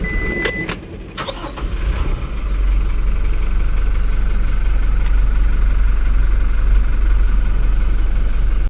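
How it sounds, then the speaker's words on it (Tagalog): A 2026 Toyota Tamaraw utility van's 2.4 diesel engine cranks with a brief burst at start-up, then settles into a steady, loud idle with a constant low rumble, heard up close with no talking. "Engine on."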